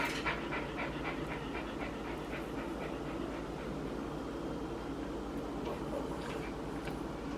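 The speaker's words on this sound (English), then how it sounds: "The puppies think this is for them." Puppies pant steadily and whimper now and then, a close, continuous breathy rhythm in an indoor kitchen while chocolate chip muffins are being made, with no talking.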